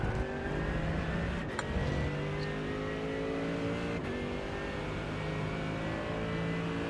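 Mercedes AMG GT3 EVO race car in the iRacing sim at Spa Francorchamps, its engine droning steadily at high revs with slight pitch shifts, loud and continuous throughout with no talk.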